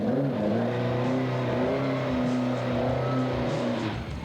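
A car engine idles and strains as a learner driver tries to keep it moving forward, a steady close drone with wavering pitch and small rises in revs, no talk over it.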